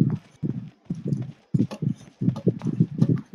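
A horse in PUBG Mobile clip-clops in a steady rapid trot of hooves on the ground, loud and close, with brief gaps between bursts.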